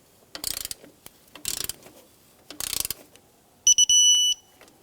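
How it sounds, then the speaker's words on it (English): A torque wrench tightens the alternator adjusting bolt to 22 foot-pounds on a 2004-2009 Subaru Outback. Three close, crisp ratcheting bursts are followed by a short, bright electronic beep. No one speaks. "I'm going to torque up the alternator adjusting bolt, and that's 22 foot-pounds."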